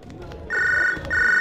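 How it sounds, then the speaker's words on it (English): A cell phone rings with a bright electronic tone, two sustained loud bursts close by, preceded by a short muffled clatter. "Oh, cell phone, where is it? I want to answer that."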